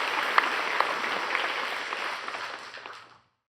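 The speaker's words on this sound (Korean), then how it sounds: "우리 하나님께 박수로 영광 돌리겠습니다." A church congregation applauds together during a Sunday worship service, a steady wash of clapping with a few sharp individual claps, heard from across the room and fading out after about three seconds.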